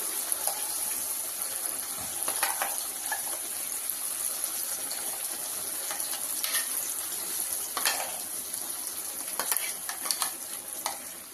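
Ground tomato paste for a tomato pickle sizzles steadily in hot oil on a stove at low flame, with soft spoon scrapes and stirring clatters scattered over the continuous frying hiss.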